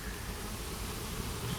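Honey bees circle in numbers at a hive entrance on a summer day, giving a steady, close buzzing drone with no talk over it.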